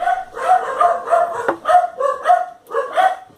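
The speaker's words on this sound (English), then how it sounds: "Dog's barking." A dog barks in a series of loud, close woofs, about eight in quick uneven bursts with brief gaps, heard in a home setting with no voices over it.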